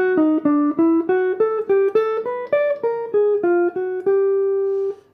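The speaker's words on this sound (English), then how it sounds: "So here is the sound of the lick played slow" A jazz lick over a set of jazz changes, built from triads and tetrachords and played slowly as a clear single-line melody: about a dozen distinct, evenly spaced notes climb and fall, ending on one long sustained tone.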